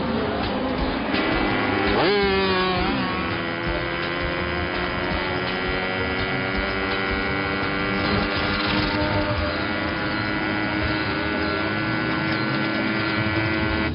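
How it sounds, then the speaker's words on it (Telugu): A motorcycle revs hard while being ridden on one wheel, its engine whining up sharply near the start, then holding a steady, droning pitch. "వీడవడా బైక్ ఎత్తుతున్నాడు?"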